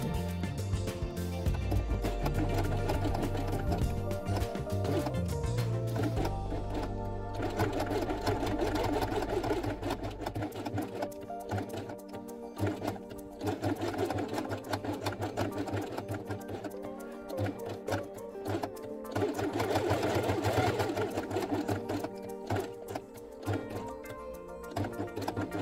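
A sewing machine runs in long steady bursts, stitching felt pieces for a dollhouse quiet book with blue thread. It whirs continuously and close by, with brief pauses in between.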